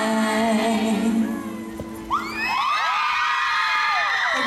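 Crowd at an Air Asia event in Udon Thani cheering and whooping for a dancer, with shouts and yells rising after a brief bang, loud and close over fading music.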